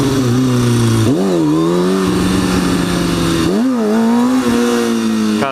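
A Kawasaki ZX6R sport bike engine revs hard during a wheelie attempt, loud and close, with two sharp throttle surges rising and falling over a continuous high-pitched drone.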